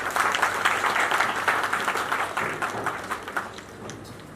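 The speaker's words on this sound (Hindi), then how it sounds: "आपकी तालियों में" Audience at a social media awards ceremony claps for a lifetime achievement award, a loud, dense round of applause that starts full and gradually thins out over a few seconds.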